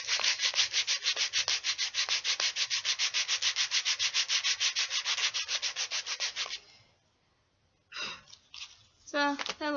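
Rapid rhythmic back-and-forth sanding strokes rasp against wooden popsicle craft sticks for several seconds, close and even, then stop; a few rustles and scrapes follow.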